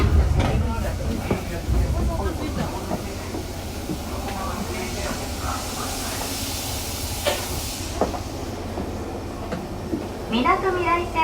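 Tokyo Metro Fukutoshin Line 7000 series train with Mitsubishi IGBT-VVVF drive running between stations, a steady rumble and hiss of wheels and motors heard from inside the car, with faint rail clicks and a brief squeal near the end.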